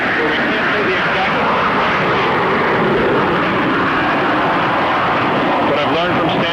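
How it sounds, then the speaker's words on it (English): Military warplanes take off from a runway at an air base during the Iraq War and pass overhead in a loud, continuous broadband jet roar that fills the whole clip, with someone talking over it. "we do have the warplanes passing over us right now, taking off on the runway, heading in the direction right now of Iraq"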